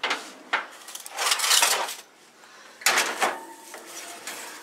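A pan of honey lemon chicken goes into a 375-degree oven: loud metallic clanks and scrapes of the pan and the oven rack in two close bursts, with no talking.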